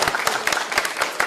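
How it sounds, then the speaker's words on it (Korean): Audience applause at an outdoor political campaign rally in Gwangju, a dense burst of many hands clapping close and loud with a loose pulsing rhythm. "다시 한번 뜨거운 박수 부탁드리고요"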